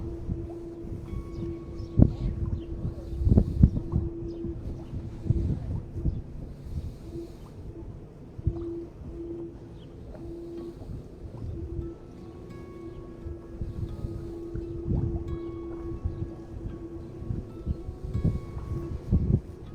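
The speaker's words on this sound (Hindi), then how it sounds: "पर हवा चल रही है। हवा थोड़ी ठंडी है," Outdoor wind blows in cool, sunny weather, buffeting the microphone with an irregular low rumble and gusty surges that rise and fall over about twenty seconds.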